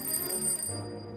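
Shop bells ringing in a photography shop scene from Kurt Weill's opera Der Zar lässt sich photographieren, a high bright tinkling that sustains and then cuts off, over soft orchestral tones.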